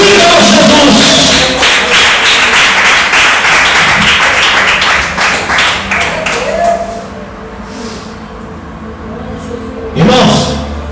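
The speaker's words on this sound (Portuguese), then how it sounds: "levante as mãos e bate palmas ao Filho de Jesus" A church congregation claps hands together in a fast, loud burst of rhythmic clapping mixed with voices, which fades out before a speaker talks.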